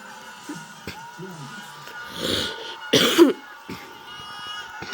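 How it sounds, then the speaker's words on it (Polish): A close, sharp cough bursts out around the middle, followed by a second rough hack, with quieter murmuring and breath sounds before. "Przepraszam, że kaszlę, ale no po prostu kaszlę"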